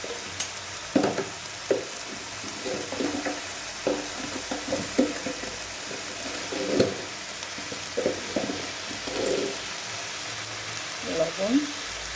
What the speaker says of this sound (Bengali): মশলা ভাজা হচ্ছে